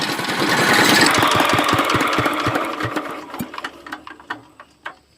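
A mini palm oil processing machine runs loud with rapid rhythmic mechanical pulsing, then slows into separate decaying knocks as it winds down.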